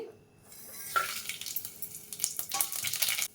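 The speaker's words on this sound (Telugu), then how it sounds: "2 బిర్యానీ ఆకు, 2 చెక్క పలుకులు, 2 లవంగాలు, 3 ఇలాచి, కొన్ని ఆవాలు గింజలు వేసేద్దాము." Whole spices (bay leaves, cinnamon sticks, cloves, cardamom and mustard seeds) dropped into hot oil for chicken curry, starting quiet and building into a bright crackling sizzle with small clinks and stirring scrapes.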